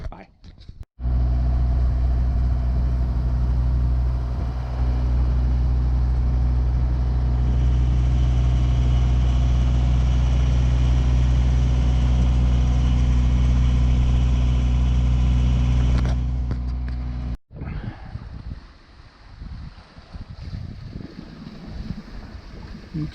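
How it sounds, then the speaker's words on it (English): A sailboat's engine runs on Lake Michigan with a loud, steady low drone and rumble for about sixteen seconds, then cuts off abruptly, leaving quieter wind and water noise behind. "I'm going to fire up the engine."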